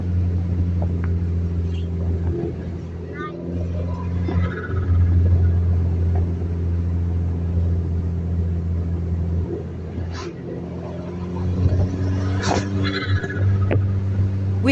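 Car with a stock intercooler rumbling steadily while being driven, a low droning engine note heard from inside the cabin, with some small shifts in pitch and light clicks over it and no talking.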